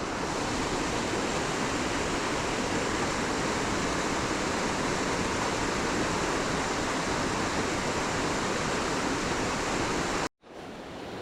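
A small waterfall on a Pennsylvania brook trout stream pours in a steady, dense rush of falling water, loud and close, continuous until a brief cutout near the end.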